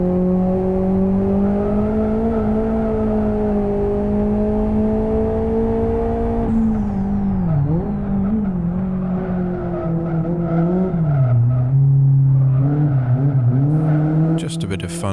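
Cars drifting in the racing sim Live for Speed played in VR: a sustained engine drone whose pitch sways and dips with throttle changes, mixed with tire squeal, steady and close throughout.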